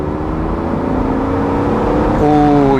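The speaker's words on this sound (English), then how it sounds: "The exhaust starts to howl, and that was starting very low, not even in its power band." A 2007 BMW Z4 M Roadster accelerating in third gear from 3,000 rpm, the engine note rising steadily into a loud, howling exhaust as revs climb, heard from inside the car.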